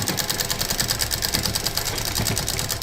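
A sewing machine stitches the bottom border of a cloth shopping bag, a fast, even mechanical chatter of needle strokes running continuously at moderate volume.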